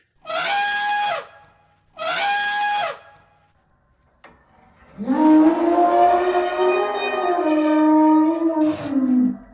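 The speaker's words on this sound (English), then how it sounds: "elephant" An elephant trumpets in a long, loud, wavering call lasting several seconds, preceded by two shorter bursts of another animal call.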